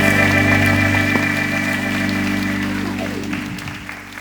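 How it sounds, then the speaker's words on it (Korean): A worship congregation at a church prayer meeting applauds, the clapping blended with sustained music from instruments underneath, gradually fading toward the end. "하나님께 영광의 박수 올리겠습니다"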